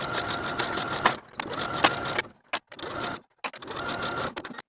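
A sewing machine edge-stitches close to the inner fold of peplum fabric, running in rapid mechanical bursts with short pauses between runs.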